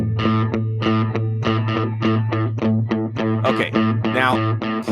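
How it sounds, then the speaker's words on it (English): An electric guitar with a slightly overdriven tone picks steady straight eighth notes on A, evenly spaced and clear, ending with a short flourish, with no talking over it. "2/8 notes would sound like this when they're straight."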